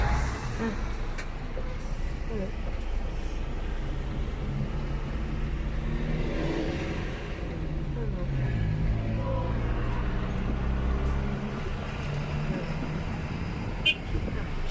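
Road traffic with passing cars and trucks, a continuous engine rumble with a louder vehicle swelling midway and a short hiss near the end, heard from inside a vehicle while people talk.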